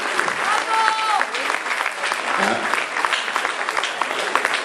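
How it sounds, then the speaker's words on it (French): An audience at a Téléthon charity evening applauds to welcome a guest, dense clapping that carries on throughout while voices talk over it. "Isabelle Burnichon, que vous pouvez applaudir bien fort."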